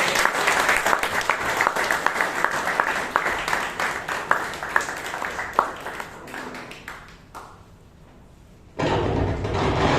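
Audience applause at a Toastmasters club meeting in Bangalore, a loud sustained round of clapping from a room of people that fades out, then gives way to a louder burst of room noise near the end.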